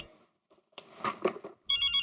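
A telephone rings during an outgoing call, a short burst of ringback tone at the end following a quiet gap and some muffled handling sounds, heard close and fairly clear.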